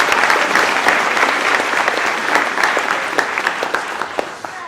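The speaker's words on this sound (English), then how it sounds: "So I want to give everybody a nice round of applause to Youth Connections." Applause from the audience at a Latino youth high school graduation ceremony held at Morton College: dense, steady clapping from a large crowd, loud and sustained throughout with no talking.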